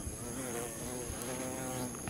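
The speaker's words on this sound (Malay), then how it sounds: "ada ulat, ada lebah pula" A bee buzzes nearby outdoors in a steady, droning hum that holds through the brief moment, fairly faint.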